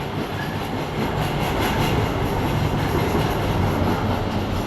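An MBTA Green Line C Route train in Boston rumbles steadily along the rails with a dense, continuous roar and faint rhythmic clatter, close and loud throughout.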